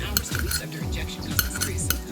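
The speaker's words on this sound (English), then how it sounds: "I'm just gonna cut them, slice them in like this." A kitchen knife slices ingredients for colossal hamburgers, making a few sharp taps and clicks against the board over a busy background of utensil and pan noise, with no one talking.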